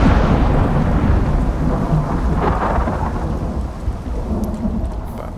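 Thunderstorm in the survival game Icarus: heavy rain pours steadily while deep thunder rolls and rumbles loudly, easing slightly toward the end, with no talking over it.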